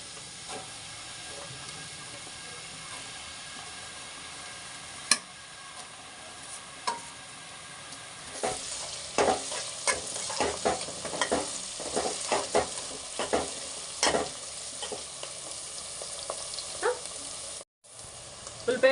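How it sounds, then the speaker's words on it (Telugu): Sliced onions frying in oil for a chicken curry, a low steady sizzle with scattered scraping clicks from stirring, growing busier in the second half before briefly cutting out near the end. "ఉల్లిపాయ ముక్కలు వేస్తున్నాను."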